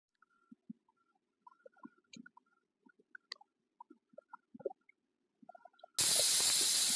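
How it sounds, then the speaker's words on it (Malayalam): A pressure cooker holding papaya and cowpea erissery bursts into a loud, sudden hiss of escaping steam from its whistle at the very end, after a stretch of faint scattered clicks and bubbling. "ഇപ്പം വിസിൽ വന്നിട്ടുണ്ട്."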